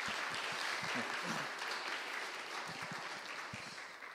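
A congregation applauds during a Korean church Sunday service in Weimar, Germany, with dense, steady clapping that gradually tapers off, heard from a moderate distance.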